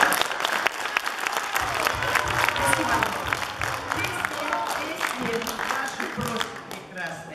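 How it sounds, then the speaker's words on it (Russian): A concert hall audience applauding: dense, sustained clapping from a large crowd filling the room at steady loudness, tapering slightly toward the end. "Зал, аплодисменты!"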